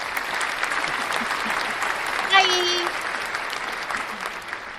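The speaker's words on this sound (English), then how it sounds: "put them back together and make a clapping sound for my friend" An audience claps steadily in a dense, moderately loud round of applause, while a voice briefly speaks a greeting over it midway.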